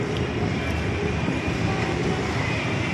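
An LRT light rail train passes nearby with a loud, steady rumbling roar that fills the whole stretch without a break.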